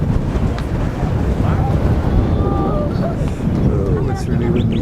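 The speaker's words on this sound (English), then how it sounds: "Oh, it's really windy here." Strong wind on the Ketep Pass between volcanoes buffets the microphone in a loud, continuous rumble with gusty swells, with faint higher whistling tones drifting through.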